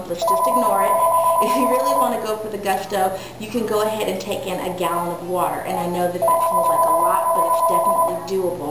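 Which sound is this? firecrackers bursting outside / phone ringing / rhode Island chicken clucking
phone ringing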